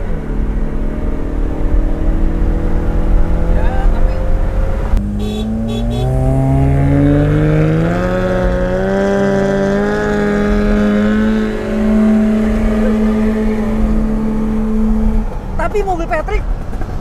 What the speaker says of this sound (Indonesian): Mobil Patrick kenceng loh